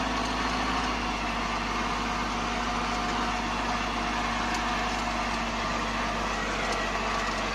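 A Kubota Aste A15 tractor drives along toward a field, its engine a steady low drone with a constant hum throughout, loud and close with no pauses.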